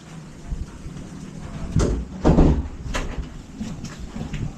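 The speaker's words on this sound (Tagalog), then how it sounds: "Ulan, guys, ulan." Rain falling outdoors, a steady hiss with a few louder thumps and gusts mixed in.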